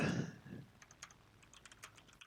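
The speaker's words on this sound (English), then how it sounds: "it's an angry Connor typing, I hear" Quick, light keyboard clicks tapping in irregular bursts, fairly faint, after a brief low rumble at the start, during War Thunder-style AU-1 Corsair gameplay.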